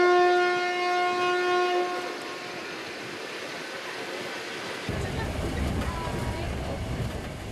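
A loud, sustained train horn with a steady pitch sounds for about two seconds, then gives way to the rumbling, clattering noise of a rail car, at a station in Mongolia.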